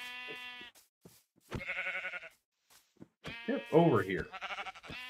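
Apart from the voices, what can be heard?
sheep bleating in the video game Minecraft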